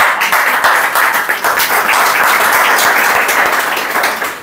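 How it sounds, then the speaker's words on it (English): Sustained audience applause for a presenter at an evening spoken-English presentation session, a dense, even clatter of many hands clapping that stays loud and steady throughout. "A big round of applause for Saba Hamid"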